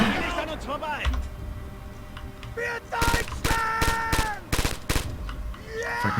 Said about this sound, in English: A lot of shots coming out.